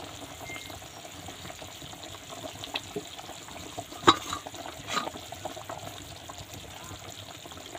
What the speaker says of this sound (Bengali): এবার আমরা জল দিয়ে দেবো